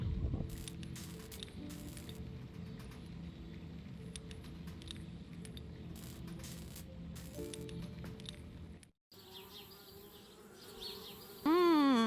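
Bees buzz steadily in the Anna's Quest adventure video game, a close, continuous droning hum with a few faint taps, cut off briefly before a rising whoosh effect ends the scene.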